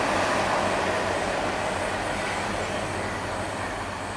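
The Gumarang passenger train rushes by on a line bound for West Sumatra as a steady, loud broadband roar with a low rumbling undertone, constant throughout and with no voices.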